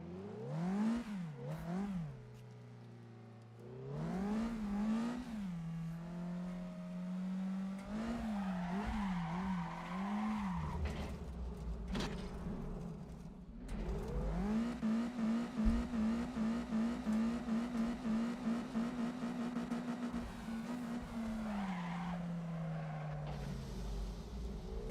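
A manual car drifts through a corner, its engine revving up and down in repeated surges while tires squeal, the sound loud and close across the whole stretch.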